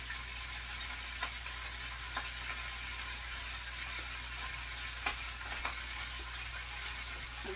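Chicken feet adobo with soy sauce being stirred in a pan: a steady sizzle and hiss runs throughout, with occasional faint clinks and scrapes of the utensil, quiet and continuous and with no talk.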